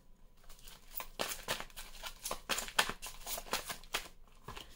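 Tarot cards are shuffled and handled close by, giving a run of crisp riffling bursts and papery flicks with short pauses in between, fairly quiet, with no talking.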